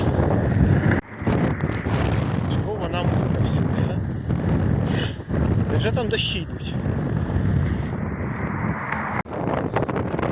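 Strong desert storm wind in Chile roars and buffets the microphone continuously, a loud broadband rumble with brief dips, while a person talks over it.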